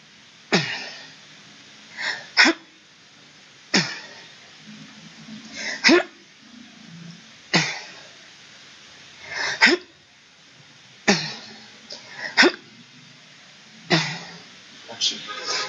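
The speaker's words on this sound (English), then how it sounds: "when you want to clear your throat and it is just a passing obstruction or passing phlegm" Several forceful throat-clearing bursts come in irregular pairs, each a sharp harsh rasp with quiet gaps between, close and fairly loud.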